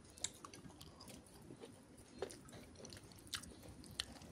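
Crunchy chewing of crispy fried small river fish, a few sharp crackly bites and mastication noises, close and fairly quiet with no talking.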